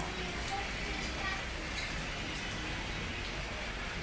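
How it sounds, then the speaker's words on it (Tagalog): Steady rain hissing evenly throughout, a dense wash of drops at constant level with no voices. "Umuulan dito ngayon idol."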